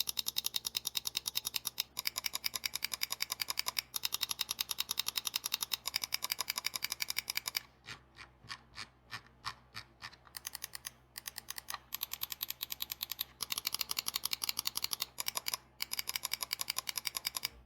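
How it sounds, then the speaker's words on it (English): Rapid clicking of a Logitech G Pro X Superlight wireless gaming mouse, close up: crisp, light clicks in fast bursts and steady runs, with a brief slower stretch of separate taps midway, heard alone without talking. "Now let's do a quick click test so that you can hear what this mouse sounds like."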